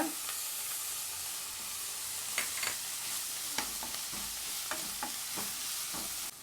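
Onions frying with salt and ginger-garlic paste for a green chicken curry: a soft, steady hiss broken by irregular light spatula taps and scrapes, close but quiet.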